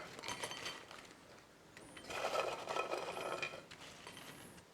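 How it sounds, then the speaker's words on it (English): Home-cooked French fries tumble into an ordinary bowl, soft crisp rustles and light clinks in two clusters separated by a brief lull, fairly quiet and close with no talking. "I'll just serve them in a normal bowl."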